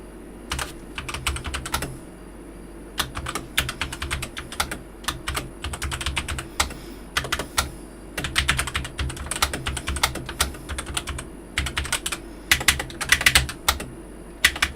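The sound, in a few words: typing on a new computer keyboard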